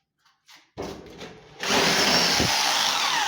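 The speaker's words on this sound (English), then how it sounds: "So you use a concrete bit with a hammer drill" A few faint knocks, then a hammer drill with a concrete bit starts, briefly whirring before settling into a loud, steady grinding hammer-drill noise boring into concrete.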